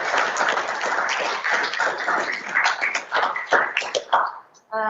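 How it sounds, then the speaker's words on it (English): A crowd at an Asia-Pacific conference award ceremony gives a dense round of applause for the awardees, steady clapping that thins into scattered claps before stopping. "So let us join in a round of applause to celebrate the success of our"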